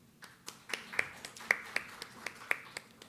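An audience at the Korea-Eureka Innovation Forum claps: a faint, sparse run of about a dozen evenly spaced hand claps in a quiet room, crisp and regular rather than a full ovation.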